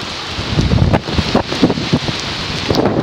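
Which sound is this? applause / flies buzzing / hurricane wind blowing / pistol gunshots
hurricane wind blowing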